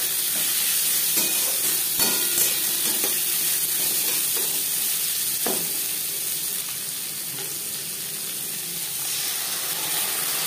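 Onion and garlic frying in a pan for a Bengali rohu fish curry, with dried chilli, bay leaf and five-spice already in the oil: a steady, dense sizzle and hiss with a few stirring scrapes, loud and close, no talking.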